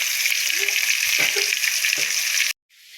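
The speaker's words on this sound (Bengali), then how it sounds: "আমরা হালকা একটু ভেজে নেব।" Chicken pieces for a homemade chicken biryani frying lightly in a pan produce a loud, continuous sizzle with a few stirring scrapes, then cut off abruptly into a quieter hiss.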